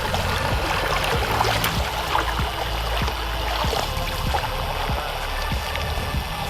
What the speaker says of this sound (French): Regarde, il tourne le moteur.